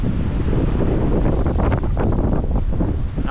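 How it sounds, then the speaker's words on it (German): Strong wind buffets the microphone outdoors by the water, a loud continuous low roar and rumble filling the whole stretch with no speech. "Der Wind ist einfach unglaublich."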